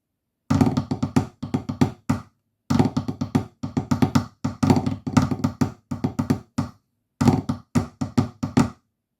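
A snare drum plays the Illawalla marine solo section: rapid, crisp rudimental strokes in dense rhythmic bursts, grouped into phrases with short pauses between them, close and loud, played alone with no talking.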